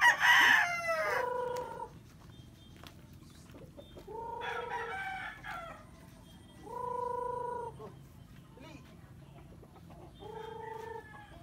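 Young stags cluck and call repeatedly nearby, one loud crow at the start followed by several drawn-out squawking calls spaced a few seconds apart.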